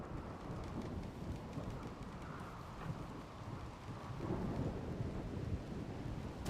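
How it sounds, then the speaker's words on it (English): Steady rain with rolling thunder from the game Rimworld, a continuous wash of rainfall with low rumbles swelling louder toward the end, heard alone without talk. "Well, we got a bit of rain."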